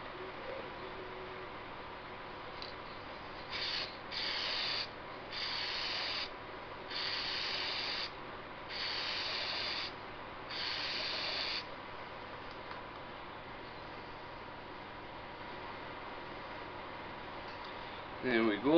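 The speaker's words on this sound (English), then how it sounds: "now I'm just going to use some clear acrylic lacquer" Clear acrylic lacquer sprayed from a can onto a hand-turned beech vase in short hissing bursts, about six evenly spaced sprays of a second or two each, close and moderately loud.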